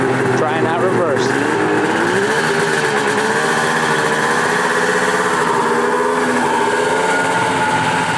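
An Arctic Cat Thundercat 1000 snowmobile fitted with a 144-inch track runs in reverse, its loud engine drone shifting pitch as it moves, close and steady throughout.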